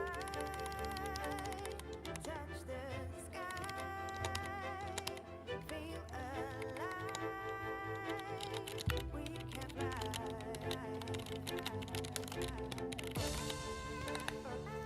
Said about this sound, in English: Can you hear the clicky clacks?